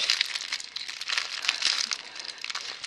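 A plastic zip bag from a bead and stitching supply haul crinkles and rustles continuously as it is handled close by, with no talk.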